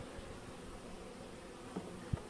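Honeybees humming at a brood frame lifted from a weak colony's hive, a low steady drone close by with a couple of brief louder bumps near the end.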